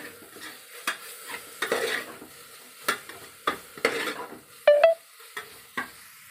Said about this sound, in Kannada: ಈಗ 1 ಸ್ಪೂನ್ ಶುಂಠಿ ಬೆಳ್ಳುಳ್ಳಿ ಪೇಸ್ಟ್ ದೊಡ್ಡ ಸ್ಪೂನಲ್ಲಿ, ಅದು ಕೂಡ ನೀಟಾಗಿ ಮಿಕ್ಸ್ ಮಾಡ್ಕೊಳ್ಳೋಣ.